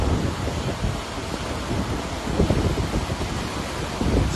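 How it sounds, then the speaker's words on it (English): Wind-driven water waves break against rock in a steady, loud, close wash of surf with gusting wind noise, swelling into heavier surges near the middle and again at the end, with no voices. "how the wind is sending the water"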